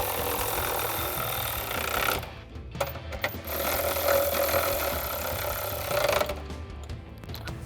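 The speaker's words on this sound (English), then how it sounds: "And then we'll grab our 16mm socket and tighten these down." A 16mm socket on an impact or power tool drives side-step bracket bolts into factory holes on a 2021-2024 Ford Bronco, two close rattling bursts with a brief pause between.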